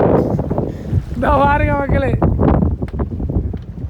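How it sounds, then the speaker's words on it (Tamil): Strong wind blows at sea aboard a boat about 10 km off the coast west of Mannar. A steady, close rushing roar runs throughout beneath someone speaking. "சரியான காற்று வந்தோம் கடலுக்கு. இந்த பாருங்க காற்று."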